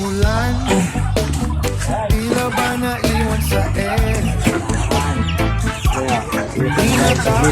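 Texas chickens fed in a small backyard coop cluck and chatter constantly in dense, overlapping bursts, close and lively, with brief faint voices mixed in.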